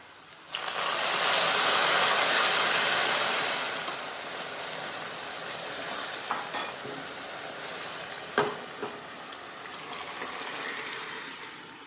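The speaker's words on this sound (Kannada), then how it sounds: "ಈಗ ಇದಕ್ಕೆ ಬೇಯಿಸಿಟ್ಕೊಂಡಿರೋ ಸಾಂಬಾರನ್ನ ಅದಕ್ಕೆ ಹಾಕ್ಕೊಳ್ಳೋಣ ಒಗ್ಗರಣೆಗೆ" A loud hiss and sizzle bursts out as cooked dry fish and field bean sambar hits hot tempering oil, then slowly settles, with a couple of clinks from a utensil.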